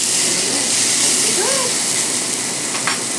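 Marinated steak sizzling on a grill, a steady loud hiss and crackle that fills the clip with no talking.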